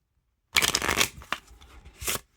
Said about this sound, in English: I think we're about shuffled up.